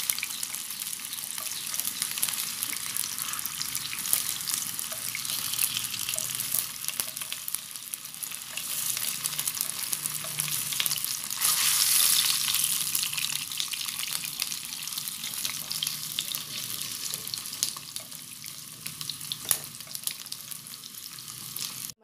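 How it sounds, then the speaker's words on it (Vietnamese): Pieces of wheat gluten fry in a pan of oil for a five-spice vegetarian dish, giving a continuous, close sizzle with crackles and pops and an occasional louder burst of spitting oil. "Rồi mình chiên nãy giờ thì nó đã cũng vàng như thế này nè các bạn."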